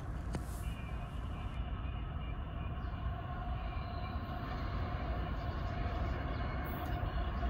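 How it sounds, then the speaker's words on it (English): Norfolk Southern train NS-268 rolls past on the main line at Union, New Jersey, a constant loud rumble of wheels and cars with no break or voices. "The next train that I saw was NS-268, which apparently took the main line and not the secondary."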